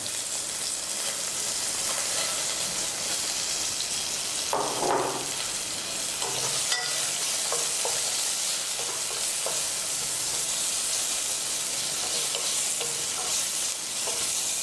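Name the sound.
chopped garlic and onions frying and being stirred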